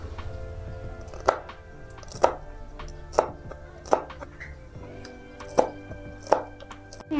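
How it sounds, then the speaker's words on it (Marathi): A knife chops green chillies on a board in slow, evenly spaced strokes, about seven sharp knocks close by against a quiet background. "आता बघा मी मिरच्या कट करून घेते"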